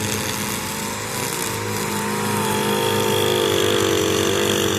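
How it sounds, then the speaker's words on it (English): An Echo SRM 225 string trimmer with a 25cc two-stroke engine runs steadily outdoors, a loud continuous buzzing drone that rises slightly in pitch and intensity, with no voices. "Here's the weed eater right there."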